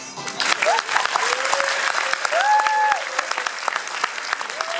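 A theatre audience in Poprad claps for the narrator after a performance: steady, moderately loud applause with a few brief sustained tones mixed in, tapering slightly at the close.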